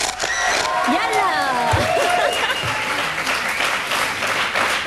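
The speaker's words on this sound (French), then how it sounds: "Yeah, on l'applaudit." Studio audience applause on a French reality-TV evening show, loud and continuous throughout, with cheering voices and whoops riding over the clapping.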